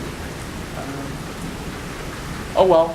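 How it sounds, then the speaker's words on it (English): Heavy rain pours down during a thunderstorm as a steady, dense hiss that fills the whole stretch, with a voice briefly speaking near the end. "it is storming out. I've heard some distant thunder, but I did not realize we were having like a downpour."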